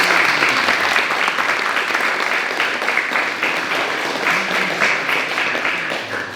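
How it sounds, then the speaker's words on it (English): Sustained, loud applause from a crowd at a martial arts belt promotion during an MMA spring seminar, dense steady clapping that carries on for several seconds and eases off slightly at the end. "Faith, give her a round of applause."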